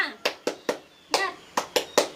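A teacher-led classroom clapping chant (tepuk semangat) at an Indonesian Islamic primary school, heard as a rhythmic series of eight sharp group claps with uneven spacing and a brief pause midway, fairly close and clear.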